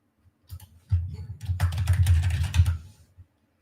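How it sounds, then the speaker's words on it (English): Rapid, loud clatter of keys on a noisy computer keyboard, a dense burst of keystrokes lasting a few seconds, close by with no talking. "this keyboard is so loud"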